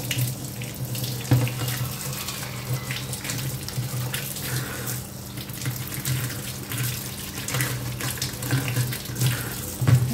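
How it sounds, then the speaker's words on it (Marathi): Raw mangoes are washed under a running kitchen tap, a steady close stream of water with hands splashing and occasional knocks against the sink. "मी त्या सर्व कैऱ्या छान धुवून घेते नळाखाली"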